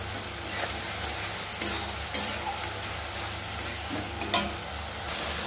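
Spice masala for a rohu fish curry is stirred and fried in oil, a continuous sizzle broken by a few sharper scrapes and clinks of the spoon in the pan, with no voices.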